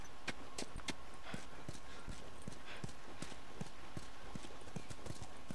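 A horse in The Last of Us walks with a steady run of crisp clip-clopping hoofbeats, close and regular, set against a continuous hiss.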